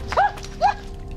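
A dog gives two short, high whimpers about half a second apart, close and clear over a quiet background.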